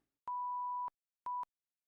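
Two clean electronic censor beeps, a long tone followed by a shorter one, sound alone and loud against silence, bleeping out swearing.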